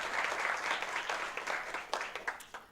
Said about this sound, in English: Another round of applause for Mr. Merman.